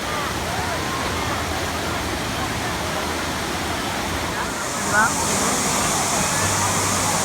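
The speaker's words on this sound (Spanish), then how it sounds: "una gran piscina con olas" Steady rushing water noise fills the scene, waves churning in a wave pool at Volcano Bay water park, Universal Orlando, Florida, with crowd chatter mixed in and a brief voice near the end.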